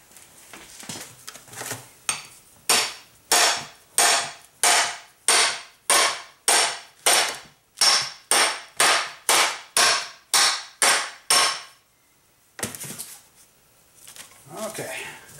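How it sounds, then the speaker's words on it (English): Steady series of about fifteen sharp metallic hammer taps on a nut threaded onto the shaft of a 1999 Jeep Grand Cherokee Laredo transfer case during teardown, evenly spaced and close, with a pause and brief clatter afterward. "Then give this nut a few taps"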